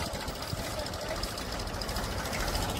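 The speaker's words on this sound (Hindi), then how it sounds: "बैक करा जाएगा ट्रैक्टर को।" A Mahindra 265 DI tractor chugs steadily as it reverses in a wet field, hitched by chain for a pulling contest with a Massey Ferguson 35. The knocking diesel sounds loud and continuous at close range.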